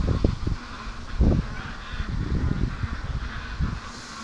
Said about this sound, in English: Ducks don't freak like this unless there's something.